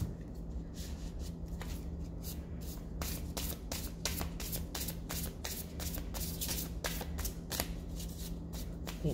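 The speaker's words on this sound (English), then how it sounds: "So I am going to shuffle it once more and then clear the deck." A deck of tarot-style cards shuffled by hand, a steady run of quick riffling flicks and soft rubbing, close and fairly quiet, no talking.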